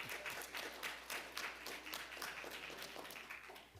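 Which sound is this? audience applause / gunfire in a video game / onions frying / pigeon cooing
audience applause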